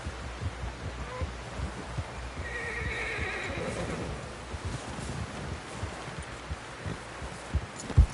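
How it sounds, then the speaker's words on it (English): A horse in Red Dead Redemption 2 whinnies loudly in the middle while hooves clip-clop steadily throughout, ending with a sharp thud. "Someone help John down off this horse"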